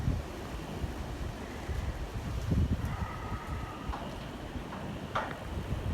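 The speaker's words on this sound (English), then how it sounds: "It's too windy out here for me." Steady wind blows outdoors on a warm, windy day, a continuous broadband rush with gusty low rumble buffeting the microphone throughout, no voices over it.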